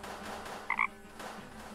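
A single short frog croak from the video game Deponia sounds in two quick pulses over a quiet hum of background music, with no one speaking.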